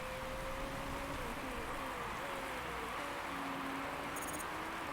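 Steady rain hiss in the racing management game Motorsport Manager, a constant wash of falling rain with faint engine whine tones weaving beneath it throughout.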